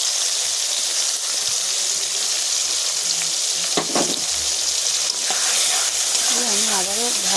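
Potatoes fry with ginger, cumin and garlic paste in a loud, continuous close sizzle, broken by scraping stirs and a few sharp clatters, while someone talks over it near the end.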